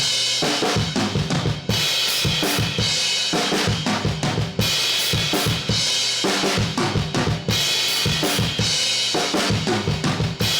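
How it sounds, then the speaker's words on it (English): Heavily compressed drum kit run through an SSL channel strip with low mids cut, a steady groove of punchy kick and snare hits and bright cymbal wash, loud and dense throughout with no voices. "and so it'll sound like this whenever it's processed"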